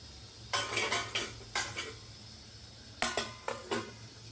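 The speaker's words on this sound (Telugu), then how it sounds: "ఒకసారి కలుపుకొని మళ్ళీ మూత పెట్టేయండి" Chicken with chopped garlic cloves is stirred in a metal pot with a spoon, giving several close, clattering bursts of metal scraping and knocking separated by quiet pauses, with no sizzle.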